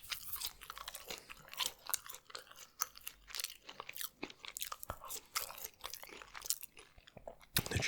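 KFC fried chicken is chewed close to the microphone, giving irregular, crisp crunches and wet bites that come in quick bursts over a soft background, with no talking.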